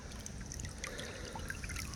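Water trickles slowly down a sluice mat carrying gold concentrates, giving a soft, steady, continuous babble with small splashes, faint and close.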